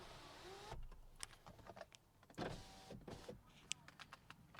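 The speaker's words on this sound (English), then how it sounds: "I'm gonna open a window." A car's power window whirs faintly as it opens, mixed with small clicks and rustles in a quiet cabin; the motor hum sits low and intermittent among the handling noises.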